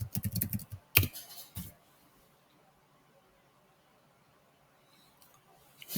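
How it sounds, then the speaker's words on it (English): Typing on a computer keyboard comes as a short burst of close key clicks followed by a sharp tap and a quieter click, then near silence. "So I'm going to type that in."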